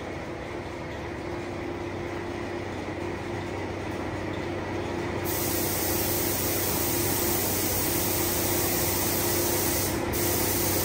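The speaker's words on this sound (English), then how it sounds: "the paint hitting the panel, it'll be less overspray in the air." Spray gun laying candy paint onto a panel, a steady continuous hiss of atomizing paint running throughout without pause, close and fairly loud, with no talk over it.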